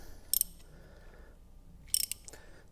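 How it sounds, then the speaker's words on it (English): A ratchet clicks in two short bursts of quick metallic ticks as it tightens a spark plug on a Ford Fiesta engine, close and fairly quiet with a pause between. "Get the old ratchet on."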